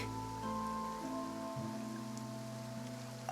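Steady rain falls in the Genshin Impact game world, an even wash of patter running throughout beneath a low background music drone.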